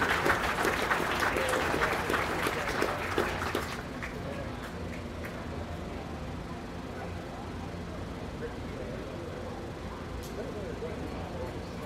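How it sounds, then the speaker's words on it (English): Crowd applause for children at the Adams County Fair beef show, a loud burst of clapping in the first few seconds that cuts off abruptly, leaving a quieter murmur of voices and room noise. "Let's give these kids another big round of applause."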